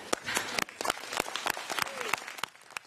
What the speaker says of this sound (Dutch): Applaus in de zaal gisteravond na een hele dag onderhandelen en blije gezichten bij de meesten over het migratieakkoord.